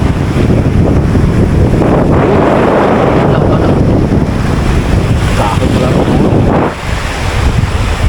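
Strong wind buffets the microphone in a loud, continuous roar, with water and waves churning beneath and a brief lull near the end.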